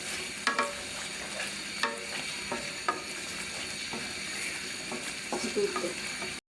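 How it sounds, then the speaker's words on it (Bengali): Egg korma with green chillies being stirred in a pan, a steady sizzle under repeated scraping strokes of a spoon against the pan at an uneven rhythm, close and moderately loud. "কাঁচামরিচ দিয়ে একটু নেড়ে নিব"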